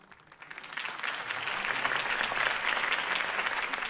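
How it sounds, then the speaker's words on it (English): A crowd claps after a campaign speech in a video game scene. The applause builds quickly from a few claps into dense, sustained clapping that continues to the end. "If only Mr. Wayne, my campaign's largest backer, could have heard that applause"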